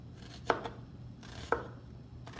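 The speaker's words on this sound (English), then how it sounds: "I'm just following the lines of the onion and cutting along with them, more or less" A knife dicing an onion on a cutting board, two distinct chops about a second apart over a low steady background hum, close and fairly quiet.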